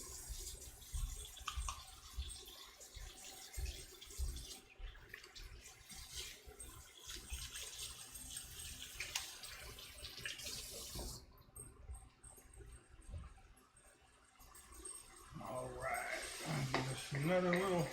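Kitchen tap water running while hands are washed during beef Wellington preparation, a steady close splashing stream that grows louder toward the end, with a person talking over it.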